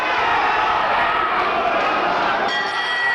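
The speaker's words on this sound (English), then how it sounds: "Every punch Kaylor lands is being cheered to the echo by his West Ham supporters in this crowd" Boxing crowd of West Ham supporters cheering ringside: a dense, loud, steady roar of many voices that keeps up throughout, with a commentator's voice faintly mixed in.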